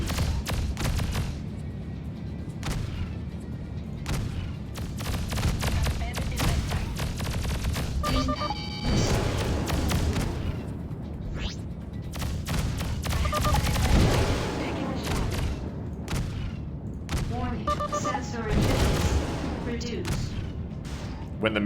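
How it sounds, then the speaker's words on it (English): Primary blaster shots and missiles firing in the space combat game Freelancer, dense rapid bursts of sharp zaps and booms layered over continuous engine hum, with a voice talking through much of it. "Just doing primary blaster shots all the time."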